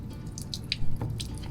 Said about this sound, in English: you can see some water dump out of there